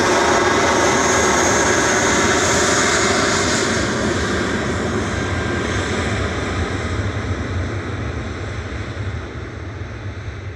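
British Airways jet airliner at Manchester Airport, a loud broad engine roar that holds steady and then slowly fades, with no talking.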